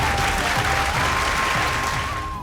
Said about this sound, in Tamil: இன்னும் ஒரு முறை ஒரு மிகப்பெரிய ஒரு பலத்த ஒரு கைத்தட்டல் கொடுக்கலாம்.